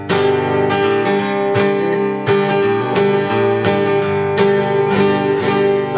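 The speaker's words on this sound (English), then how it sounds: "Very loud, punchy guitar." Harmony Sovereign H1260 ladder-braced acoustic guitar strummed with a light pick, giving loud, punchy repeated chord strums in a steady rhythm, close and alone.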